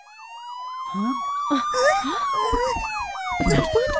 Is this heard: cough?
no